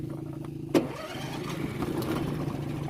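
A Duromax 440cc engine fitted in a Kawasaki Mule catches with a sharp crank burst, then settles into a steady, close idle hum on a frozen lake.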